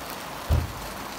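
Hail, sleet and snow falling together outdoors in Cornwall, a steady pattering wash of precipitation with one brief louder thud midway, no voices.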